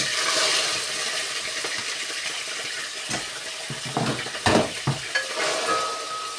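Onion drops into hot lard, giving a loud broad hiss that settles into steady frying, with a few scraping clatters of stirring near the end.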